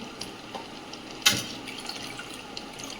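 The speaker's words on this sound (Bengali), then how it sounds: "জলটা গরম হয়ে গেছে, চালটা দিয়ে দিচ্ছি।" Rice tipped into a pot of hot water for mutton biryani makes one short, sharp splash against a quiet room hiss, with nothing else nearby.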